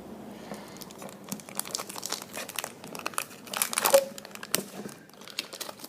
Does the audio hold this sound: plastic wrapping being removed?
yes